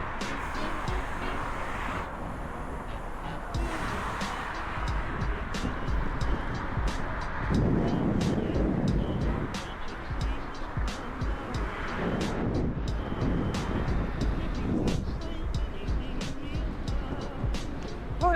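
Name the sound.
strong wind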